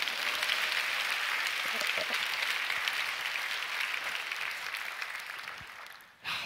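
An audience at a church prayer meeting breaks into steady, dense applause that fills the room evenly, then fades near the end before a brief swell.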